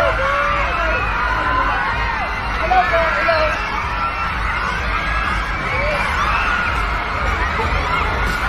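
Large crowd of fans at a concert cheering and screaming in a steady, loud roar, with shrill whoops and yells rising over the dense noise throughout.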